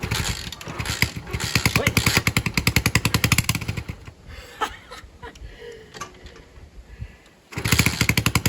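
A small postie bike motorcycle engine idles close by with a steady, rapid putter that dips and roughens midway, as if the idle is being adjusted, before settling back into an even chug.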